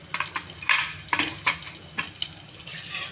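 Cumin seeds, urad dal and dried red chillies frying in hot oil for a palak fry, crackling and sizzling close up with repeated scraping stir strokes in an uneven rhythm, no voices.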